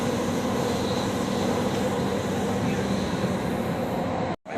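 Steady rumble of a moving train in Qatar heard from inside the carriage, a continuous close roar with faint hiss that holds evenly before cutting off sharply near the end.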